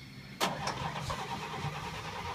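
A 1956 International Harvester S-160 school bus engine cranks and catches with a sharp start, then settles into a steady low idle, close and fairly loud, with no talking.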